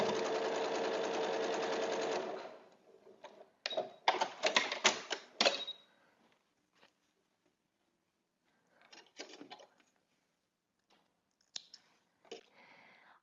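Sewing machine stitching rows of scrappy star quilt blocks together, a steady close whirring run for about two seconds, then short start-stop bursts of stitching with clicks and pauses in between.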